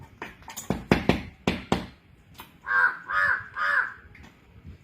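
Crow cawing, three loud, close, drawn-out caws in a steady rhythm, preceded by a series of sharp taps and clicks.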